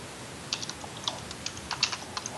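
Quiet typing on a computer keyboard, a short run of light, irregular key clicks close by with no voices.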